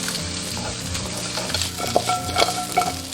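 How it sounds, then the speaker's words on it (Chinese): Onions stir-fry with bacon in an oiled pan, a dense close sizzle broken by spatula scrapes and light clinks against the pan. "把洋葱煸炒一下会更香。"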